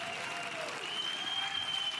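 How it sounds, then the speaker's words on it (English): Audience applause at a professional beach volleyball match at the Carvana Masters: a steady, dense clapping from a crowd that holds for the full couple of seconds and swells slightly near the end. "That deserves a round of applause."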